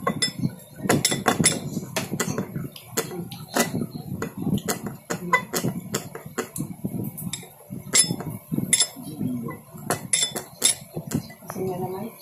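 A spoon stirs a homemade mix of Sunsilk shampoo, alum and calamansi in a container, making repeated sharp clinks and scrapes in an uneven rhythm, close up, with a voice speaking over it.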